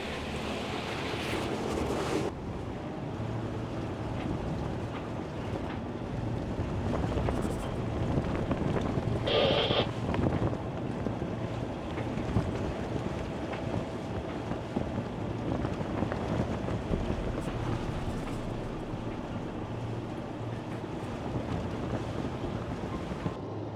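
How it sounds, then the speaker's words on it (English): Strong wind of about 25 knots buffets the microphone in a constant roar over a bay, with waves and water churning underneath and no voices. "it's still particularly windy, it's about 25 knots of wind in the bay"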